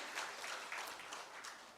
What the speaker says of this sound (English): Can we have a round of applause for our fabulous moderator, panelists, and special speaker?